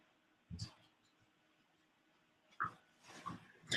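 A dog inside an office gives a few soft whimpers and whines with quiet gaps between them, fairly close but faint.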